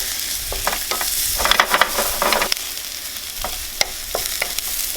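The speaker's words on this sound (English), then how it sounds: "I'm just going to sweat these a little bit, just so that the aroma gets released in the oil." A large shallot sweats in hot oil, producing a close, moderate sizzle. Clacks of stirring recur across the span, with a busier burst near the middle, and no one talks.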